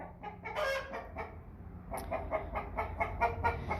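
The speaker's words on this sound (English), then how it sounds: "over here is prematurely singing the egg song" An American Bresse hen sings the egg song, a run of loud, close clucking calls that rises into repeated sharp squawks, with other chickens faintly audible behind.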